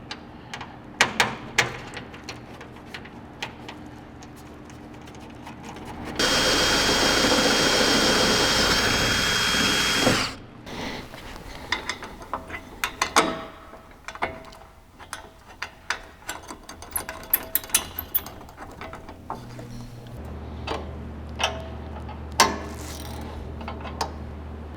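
A power drill bores mounting holes for a Rover Vans tire carrier and ladder on a van, a steady loud whirring burst of about four seconds standing out from quieter clanks and handling noises, with a low hum near the end.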